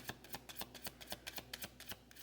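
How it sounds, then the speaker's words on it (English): A deck of tarot cards being shuffled, quiet and close, with a quick run of crisp riffling flicks in an irregular rhythm and no talking. "Let me shuffle it a couple times"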